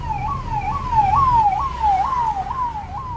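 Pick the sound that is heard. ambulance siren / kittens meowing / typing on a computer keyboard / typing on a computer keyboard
ambulance siren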